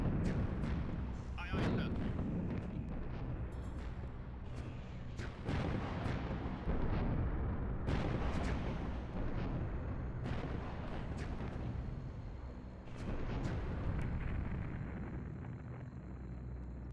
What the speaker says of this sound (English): The chain reaction has started. It's going to explode.